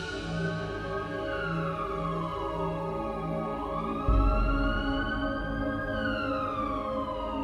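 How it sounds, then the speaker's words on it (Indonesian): An ambulance siren wails loud and close, its rising and falling tones sweeping over a steady engine rumble that deepens partway through as the vehicle draws nearer, with no talking. "Kok ada suara ambulans,"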